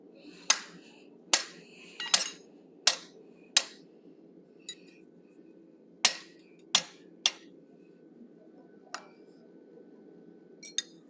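A hammer drives a narrow triangular punch into hot forged steel shaping an animal head's ear, ringing out in a string of sharp, separate metallic strikes at an uneven pace, each decaying quickly over a low steady hum.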